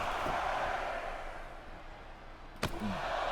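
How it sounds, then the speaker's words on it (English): Arena crowd in the WWE 2K22 wrestling video game booing a John Cena entrance, a continuous broad roar of voices throughout with a sharp slam-like hit near the end. "We're getting booed for it, it sounds like."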